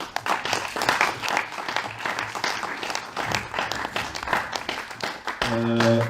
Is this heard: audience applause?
yes